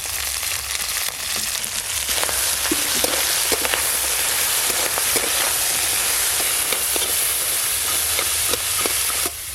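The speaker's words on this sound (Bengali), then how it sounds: "এবার কাঁকড়াগুলো ভালো করে ভেজে নেব একটু কড়া করে।" Crabs fried hard in hot mustard oil with salt and turmeric: a loud, steady, close sizzle and crackle with sharp pops, unbroken throughout.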